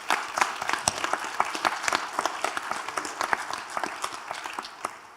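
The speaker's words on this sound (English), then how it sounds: "But let's give Pastor Hubbard a round of applause" Audience applause for a pastor after a mental-health panel discussion: a steady wash of many hands clapping with sharp individual claps standing out, moderately loud and continuous throughout.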